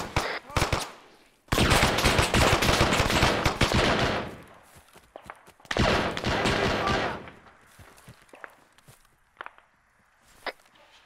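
Bursts of automatic and single gunfire in Arma 3 multiplayer military combat, loud close volleys with pauses, followed by scattered fainter distant shots.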